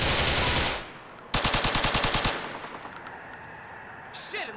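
Automatic gunfire in the video game GTA IV, a loud rapid burst of evenly spaced shots followed by scattered fainter shots and game noise.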